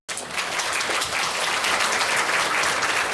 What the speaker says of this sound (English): Let's give Khenpo a warm round of applause as we see him off